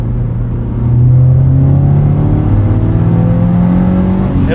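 Loud in-cabin drone from a Subaru BRZ engine with an MRT exhaust and catted UEL header, a steady rumbling tone that climbs gradually in pitch as the revs rise, with induction noise blended in.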